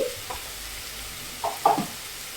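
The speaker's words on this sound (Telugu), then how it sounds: "మనకి ఉల్లిపాయ ముక్కలు అనేది తొందరగా వేగుతాయండి" Chopped onions sizzle steadily in a pan with salt added, cooking for a raw banana and drumstick pulusu, with a few soft stirring scrapes rising over the constant frying hiss.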